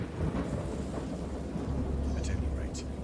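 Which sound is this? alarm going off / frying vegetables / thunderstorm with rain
thunderstorm with rain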